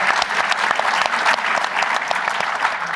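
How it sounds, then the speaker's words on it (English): An audience gives a big round of applause at a STEM event about Mars, with thick, continuous clapping that stays loud and steady throughout the short burst. "Let's give her a big round of applause"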